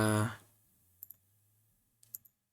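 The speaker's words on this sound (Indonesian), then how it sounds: "kita klik saja tombol undo di bagian pojok kiri atas di sini" Mouse clicks on the undo button while editing in Microsoft Word 2013: a voice trails off, then two sharp paired clicks sound close and clear, followed by another pair a second later over quiet room hum.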